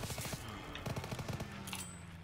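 Machine gun fire in the game Call of Duty WWII rattles off in quick repeated bursts, close and steady, with a brief pause and faint hiss near the end.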